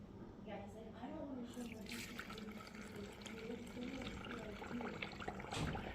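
Lion's mane mushroom tincture liquid is poured through a strainer, giving a steady trickling and splashing stream with drips, while a voice talks over it throughout.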